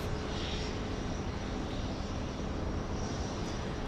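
A Boeing 787 Dreamliner of a Mexican airline taxis at Los Angeles International Airport, a steady broadband jet engine roar heard from a distance without any voices, even in level across the moment.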